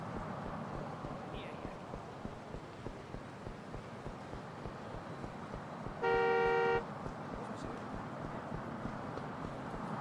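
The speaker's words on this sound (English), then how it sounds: "Aren't you honking at that guy?" A car horn in the Yakuza 5 game sounds one steady, loud toot of under a second, standing out over a constant low rumble of engine and road noise.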